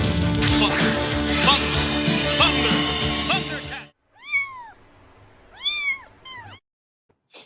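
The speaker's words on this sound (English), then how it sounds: "when somebody gives me a super chat, you get the meow" A domestic cat meows twice, clear and close, after several seconds of a louder, tonal sound; the two distinct meows are separated by a short pause.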